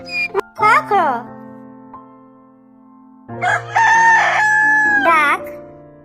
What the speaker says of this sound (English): cockerel,